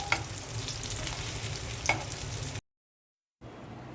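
Beef tikia patties frying in a pan, a steady soft sizzle with a couple of sharp utensil clicks, then a sudden cut to silence before the sizzle resumes quietly.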